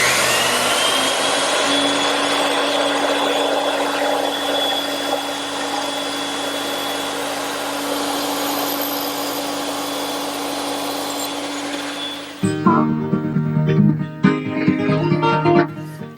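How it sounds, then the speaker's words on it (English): A bandsaw trimming wooden tenons for an English garden bench, a loud steady whine and cutting roar that stops abruptly, followed by clattering and knocking of wood near the end. "And now I just have to trim up the tenons using the bandsaw."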